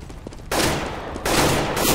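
Loud gunfire in Counter-Strike GO, two long bursts of sustained rapid shooting that fill the clip, with no talk.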